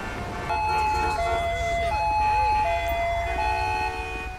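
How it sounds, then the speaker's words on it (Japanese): Ambulance siren in Grand Theft Auto V, a wailing electronic tone sweeping steadily between two pitches, loud and continuous over a low rumble of game traffic. "よし、救急車来てくれたね。"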